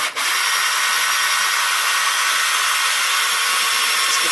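A power drill driving a screw whirs steadily and loudly from start to finish, with a constant high-pitched grinding hum and no speech.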